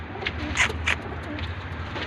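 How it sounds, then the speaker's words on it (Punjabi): Two teddy pigeons coo in short, soft bursts around the middle, each a low throaty call over a steady background murmur. No one speaks. "ਨਾਲ ਆ ਟੈਡੀ ਕਬੂਤਰ ਜੇ ਆ ਦੋ ਕਬੂਤਰ ਹੈਗੇ ਜੀ"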